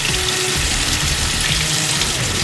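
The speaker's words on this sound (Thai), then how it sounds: "เอา ไส้กรอกของเรา มาล้างน้ำก่อนนะ" Tap water runs steadily over sausages being rinsed in a sink, a loud continuous splashing gush with no pauses.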